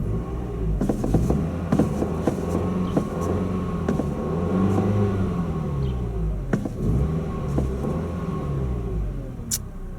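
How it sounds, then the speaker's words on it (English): A 2009 Ford Fusion SE with a 4-cylinder engine idles and is revved several times, giving a steady close rumble with swelling, wavering pitch and a few sharp clicks, with no talking. "Go ahead and rev it a few times here."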